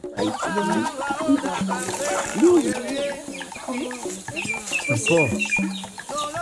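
Chickens cluck and chatter continuously nearby in a small farmyard, a busy flock with overlapping calls and some soft background voices.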